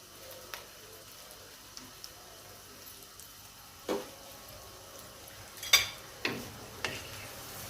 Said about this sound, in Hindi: प्याज, लहसुन, अदरक और हरी मिर्च ये मैं फ्राई कर रही हूँ।